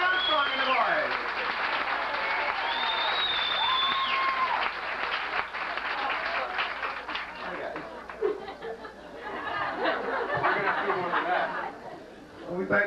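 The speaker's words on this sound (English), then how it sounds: "how about a nice round of applause for the finest orchestra within a 50-mile radius?" An audience gives a sustained round of applause for an orchestra, loud and steady with whistles and chatter mixed in, then thinning out as a voice speaks over the tail.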